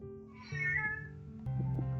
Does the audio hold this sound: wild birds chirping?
no